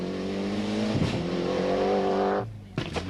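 A 1995 Ulster Rally car blasts along a tarmac stage, engine roaring loud with a gear-change dip, then cutting off sharply near the end before a short burst of noise.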